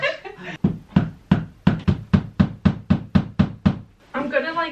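A hammer drives nails into a wall in an art studio being decorated, about a dozen sharp, evenly spaced blows in a steady rhythm, close and loud, with brief talk before and after.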